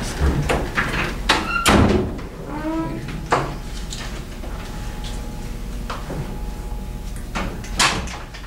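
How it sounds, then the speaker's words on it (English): An indoor door closes at a press conference venue, sounding as several sharp knocks and clunks followed by a creak or slide, then a low hum of room murmur and a few later clicks. "I think we should close the door so we don't bother people that want a little more quiet."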